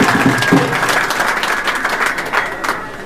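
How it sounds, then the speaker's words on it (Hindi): Applause and clapping from a rally crowd welcoming Anup Dhanak, a dense, steady burst of many hands that continues throughout without a break. "उसके लिए एक बार जोरदार तालियों के साथ आप सबका भी अभिनंदन।"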